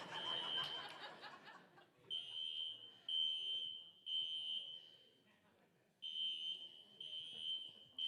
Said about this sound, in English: I've set the fire alarm off